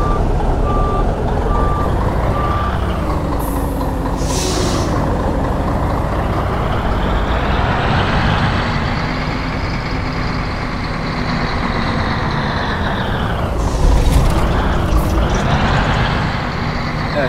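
A bus reverses and parks in a trucking video game, with a steady loud engine drone and repeated reversing beeps running through the whole stretch, plus brief air-brake hisses near the end.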